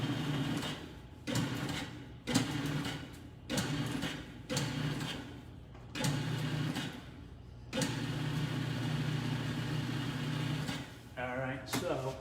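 A food processor pulses pie dough made with butter and ice water, giving a series of short, even motor bursts about a second long, separated by brief pauses, with a voice audible at times.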